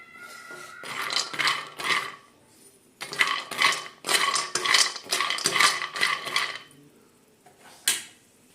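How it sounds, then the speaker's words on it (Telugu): Almonds being roasted and stirred in a pan, heard as repeated clattering, scraping rattles in short bursts with brief pauses between strokes, close and fairly loud. "ఈ బాదం బాదంని కూడా అట్లనే వేయించుకోవాలి రెడ్ కలర్ వచ్చేలాగా వేయించుకోవాలి"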